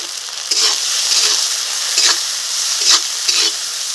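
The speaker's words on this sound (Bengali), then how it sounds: "এখন মশলাটাকে একটু কষিয়ে নেব।" A spice paste of cumin, ginger, dried chilli and tomato with salt and turmeric being sautéed in a pan, a steady loud sizzle broken by several brief scraping stirs, with no voices.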